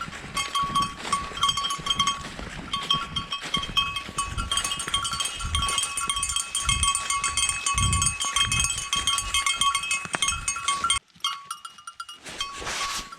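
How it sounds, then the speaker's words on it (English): A herd of goats bleats on and off, with some calls overlapping, over a steady outdoor background. A bell clinks near the end and a brief dropout cuts in shortly before the finish. "As a goat herd, I can't really control these goats."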